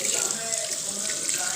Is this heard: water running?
yes